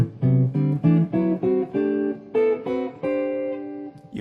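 Guitar picking out a major scale harmonized in fourths, a steady run of paired notes moving stepwise with a short pause between each, ending on a longer held interval, played alone.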